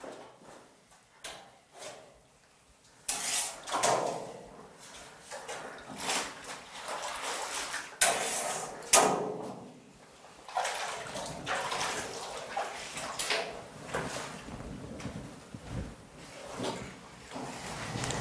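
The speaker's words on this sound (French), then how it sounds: "la réglette permet de bien récupérer le caillé jusqu'au bord de la cuve" A wooden slat gathers cheese curd to the edge of a vat of whey during alpine Beaufort cheesemaking, giving uneven sloshing and scraping bursts of liquid, some near and loud, with no talk.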